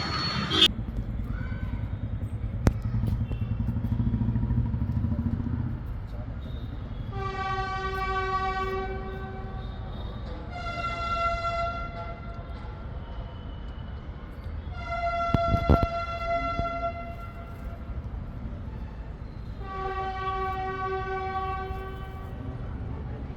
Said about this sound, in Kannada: train is coming